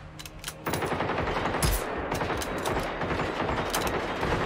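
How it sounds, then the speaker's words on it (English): A .50 caliber machine gun in a video game fires long sustained bursts of heavy rapid rounds, loud and close, with a couple of isolated shots before the fire starts. "I think I annoyed him with the 50 cal."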